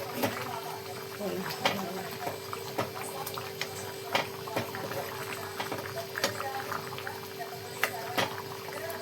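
Karadi leafy vegetable curry simmers in a pan with quiet, continuous bubbling and faint scattered pops and clicks. The sound is close but low in level, over a steady hum.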